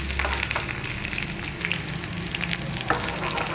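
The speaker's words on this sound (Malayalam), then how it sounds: "കുറച്ച് കറിവേപ്പില, വറ്റൽമുളക്, ഇനി അടുത്തതായിട്ട് കുറച്ച് സവാള കൂടെ ഇട്ട് കൊടുക്കും" Sliced onion frying in oil with curry leaves and dried red chilies for a tempering, a dense continuous sizzle with occasional stirring scrapes, close and fairly loud.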